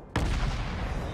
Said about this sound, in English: He's shooting only from this double turret.